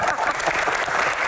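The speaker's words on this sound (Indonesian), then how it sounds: "tepuk tangan dong Bang Hensa" Audience applause at a live Q&A stand-up comedy event, a dense steady clatter of many hands clapping throughout, fairly close and full, with no voices over it.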